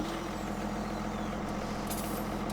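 John Deere 7430/7530 Premium tractor engine in Farming Simulator 17, running steadily with a loud, constant low rumble and drone throughout, with no talking.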